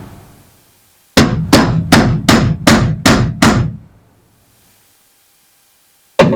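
Seven sharp, evenly spaced hammer blows ring out close by while a door lock is being replaced on a 1970 Monte Carlo, followed by silence and one more strike at the very end.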